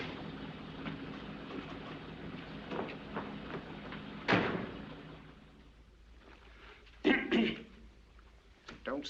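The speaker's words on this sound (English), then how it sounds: "Don't stand there coughing" A man coughs in a 1941 film, a few short, dry bursts: one alone and then a tight cluster a few seconds later, fairly faint against a quiet, hissy old soundtrack.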